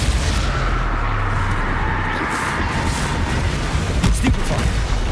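Dense, loud rumbling explosions from the Confringo fire spell in Hogwarts Legacy, a continuous booming barrage layered with sharp cracks and bursts, heavy low-end roar throughout.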